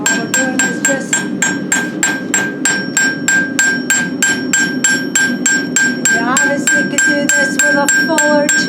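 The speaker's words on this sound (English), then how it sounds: "I just use like a little hammer that's got kind of a real thin peen on it" A small hammer with a thin peen strikes a metal leaf at a fast, steady rhythm during a blacksmithing demonstration. The close, sharp metallic taps ring with a clear high tone and continue without a break throughout.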